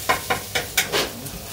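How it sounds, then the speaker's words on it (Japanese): A spatula scrapes onions and summer vegetables stir-frying in a pan as a curry base, with about five quick, rhythmic strokes over a soft sizzle. "カレーね、今下地の野菜を炒めてますからね。"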